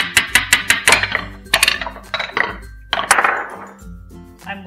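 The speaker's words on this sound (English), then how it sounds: "The second ball I'm going to hammer is red." A hammer pounds a red ball through a toddler's ball pounding toy: a quick series of sharp, close knocks with rattling clatter, then a few heavier, irregular strikes and bumps.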